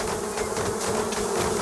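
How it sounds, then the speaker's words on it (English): Bees buzz in a steady, dense drone from the medieval colony-building game Going Medieval, continuous and fairly loud with no talking over it. "You just hear the bees going nuts."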